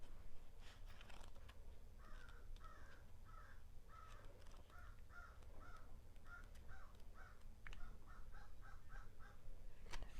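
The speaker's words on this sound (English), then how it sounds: "You can hear the crow outside." A crow caws outside in a steady series of about a dozen harsh calls, faint and distant over a low background hum, with no speech.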